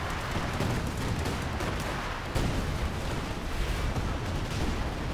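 Dense rumbling barrage of Katyusha rocket artillery fire in a war video game, a continuous roar of overlapping booms with a sharper burst midway, loud and sustained throughout.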